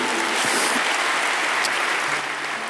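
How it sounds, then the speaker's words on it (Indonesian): A congregation claps during a sermon, a broad, steady wash of applause that stays even and fairly loud throughout. "Berikan tepuk tangan kita untuk Tuhan kita."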